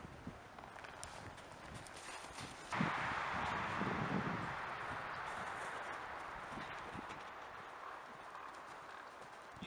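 Horse walking forward with hooves clip-clopping in a steady rhythm at moderate distance, accompanied by rustling and wind noise, with a broader wash of noise starting partway through.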